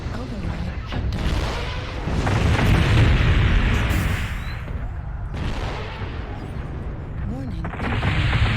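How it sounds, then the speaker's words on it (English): Heavy missile impacts and explosions rumble continuously in MechWarrior Online at Mining Collective, a dense, loud roar of booming blasts with a synthetic cockpit warning voice cutting in over it. "Warning, incoming missile."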